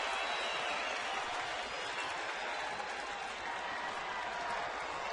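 Baseball stadium crowd in the bottom of the 8th of a scoreless game, a broad steady wash of cheering and applause that holds at an even level throughout, heard at a distance without any standout voice.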